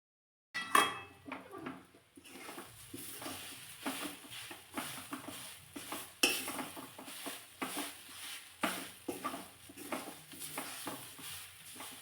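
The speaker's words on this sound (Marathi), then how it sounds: "त्याची साल काढली आणि बटाटा थंड झाल्यानंतर हातानेच असा कुस्करून यामध्ये घालते." Boiled, peeled, cooled potato is squished by hand into a bread-based mixture, giving soft, irregular squelching and pressing sounds with occasional light clicks, quiet and close throughout.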